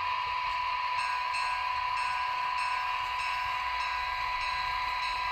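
A steady electronic model train locomotive bell ringing in a regular repeating rhythm over a constant mechanical hum, moderately loud and uninterrupted.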